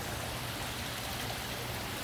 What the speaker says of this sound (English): This is the smallest of the ecosystem ponds that we saw, with a little bit higher waterfall